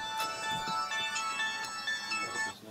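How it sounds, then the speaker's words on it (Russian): A telephone ringtone plays a bright, repeating electronic melody of tonal beeps, steady and fairly loud for under three seconds, with no voices. "Или вот телефон там. Опять."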